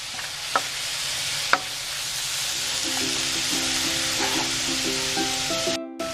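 Grape tomatoes and chopped fresh spinach fry in a pan for salmon pasta, a steady close sizzle with a couple of sharp utensil knocks early on and faint tonal beeps toward the end.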